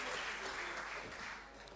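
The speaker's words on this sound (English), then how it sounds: "Let's give a round of applause to Zandra." Applause from the audience at a Western Province rugby referees' annual awards dinner, a steady wash of many hands clapping, held loud and even for about two seconds before easing slightly at the end.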